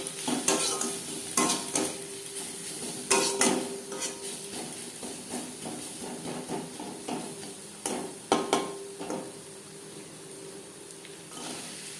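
Potatoes and onions with salt and turmeric are stirred in a frying pan, giving repeated scraping clinks of a utensil against metal in irregular bursts over a faint, steady sizzle.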